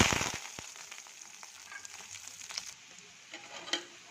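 Soft crackling and bubbling of lamb trotter curry simmering in a pot, quiet and close, with occasional sharper pops.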